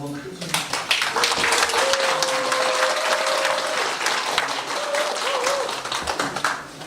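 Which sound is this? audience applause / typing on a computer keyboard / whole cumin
audience applause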